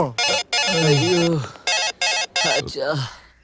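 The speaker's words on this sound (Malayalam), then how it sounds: "അവന്റെ ഫോൺ അടിച്ചോണ്ടിരിക്കണ്ട, പക്ഷെ എടുക്കുന്നില്ല" An unanswered phone rings in short repeated bursts, mixed in with people talking.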